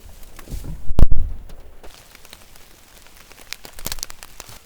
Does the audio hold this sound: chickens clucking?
no